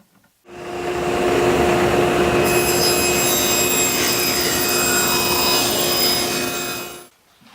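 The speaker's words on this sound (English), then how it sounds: "now I can go ahead and pull marks directly from the piece to trim this plywood to fit" A power saw cuts plywood being trimmed to fit a closet built-in, a loud steady whining cut lasting about six seconds that starts and stops abruptly.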